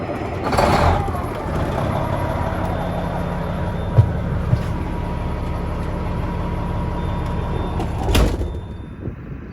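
A red semi truck reverses into place on a muddy farm, its engine droning steadily and nearby, with sharp air-brake hisses at the start and end and a couple of faint knocks between.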